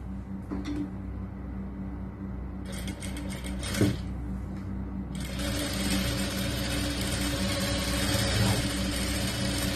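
A sewing machine stitches an edge seam along the sleeve piece of a lined churidar top, a steady mechanical whir that starts and stops briefly before running continuously, close and moderately loud with no speech.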